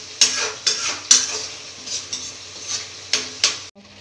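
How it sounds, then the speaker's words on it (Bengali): A spoon stirs Kashmiri paneer in a pan to dry it out, giving a series of close scraping clatters of metal against the pan, roughly one every half second, over a light background sizzle with no talking. "এবার জাস্ট এটাকে নাড়াচাড়া করে একটু শুকিয়ে নিলেই তৈরি আমাদের কাশ্মীরি পনির।"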